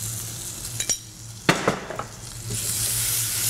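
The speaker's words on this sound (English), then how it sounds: "Then you just fry this" Chili and spicy curry paste frying in oil, a soft hissing sizzle interrupted by a couple of sharp utensil clinks and scrapes against the pan, then the sizzle swelling louder, no talking.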